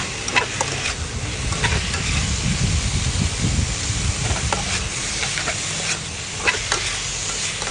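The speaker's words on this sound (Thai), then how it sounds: "คนคนให้เข้ากันนะคะ ใส่หน่อไม้ดองลงไปค่ะ" Chicken liver and pickled bamboo shoots stir-fried in a hot pan for holy basil stir-fry: a loud, steady sizzle with repeated scraping spatula strokes, close and continuous with no talking.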